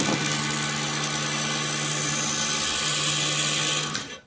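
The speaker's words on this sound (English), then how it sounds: "Turn on the Dremel." A Dremel rotary tool spinning a magnet whines at a steady high pitch, loud and close, then cuts off and winds down at the end.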